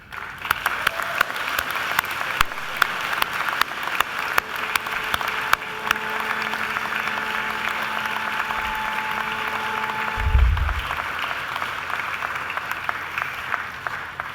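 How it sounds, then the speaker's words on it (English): A large graduation audience of graduates at a Macquarie ceremony claps steadily for their families and friends, a dense sustained applause filling the hall for about fourteen seconds with a brief low thump near the end. "give them a mighty round of applause"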